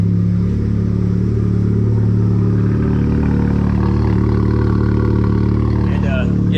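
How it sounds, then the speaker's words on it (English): A 2020 Honda Civic Type R idles while warming up after a cold start, a steady, close, low engine drone with a constant hum and a slight mechanical clatter, a voice speaking over it. "we're gonna go ahead and let the car warm up"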